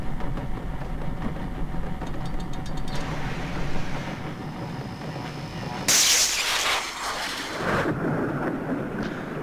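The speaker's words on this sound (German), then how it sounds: "Und jetzt regnet's." Thunder rumbles over steady rain in the dark platformer game Limbo, with a loud crack of thunder rolling in partway through, the rain hiss continuing throughout.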